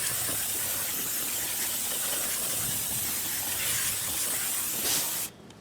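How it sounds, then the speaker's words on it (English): Brake cleaner sprayed from an aerosol can onto a car wheel being prepped for paint, a steady close hiss running about five seconds before cutting off abruptly. "just get a little bit of brake clean here, and we're just going to hose it off a little bit for an extra cleaning step."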